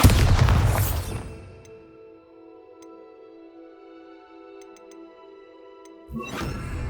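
The Bombarda explosion spell in Hogwarts Legacy goes off as a loud burst with a rumbling boom, then a sustained magical tonal hum with faint chimes, ending in another noisy swell.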